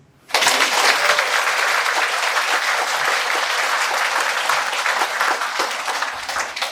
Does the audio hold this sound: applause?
yes